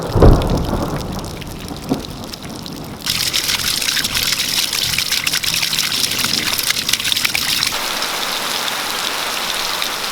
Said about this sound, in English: it's absolutely pouring down as another storm come over. Thunder and lightning.